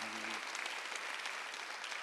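A church congregation at a Sunday worship service claps together, a brief faint burst of applause with a trace of voice at the start.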